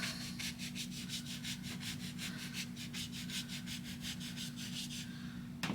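A paintbrush sweeps oil color onto canvas in Bob Ross style with quick, repeated, rhythmic scrubbing strokes, close and fairly quiet, over a faint steady hum and with no talking.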